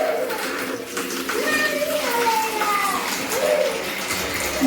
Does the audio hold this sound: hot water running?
yes